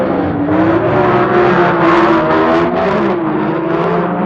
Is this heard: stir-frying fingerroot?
no